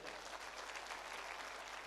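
Steady, continuous applause from an audience at a seminar, a uniform wash of clapping heard faintly and at a distance.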